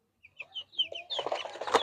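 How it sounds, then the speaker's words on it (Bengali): A caged farm hen gives a run of short, high clucks that build into busier, louder squawking near the end, close by with no talk over it. "এটি কি মুরগি?"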